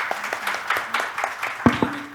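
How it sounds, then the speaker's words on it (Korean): A conference audience at an AI and cloud session claps in scattered, uneven bursts, moderately close, with a voice briefly heard over the clapping. "박수 한번."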